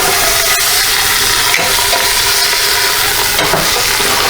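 Ribs searing in a hot pan give a loud, dense, continuous sizzle and crackle, close up and unbroken, with faint stirring or handling noises beneath and no voices.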